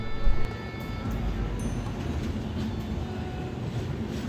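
An Indian first-class passenger train approaching Agra gives off a continuous low rumble and rattle from inside the carriage, with a brief louder knock at the start and no speech.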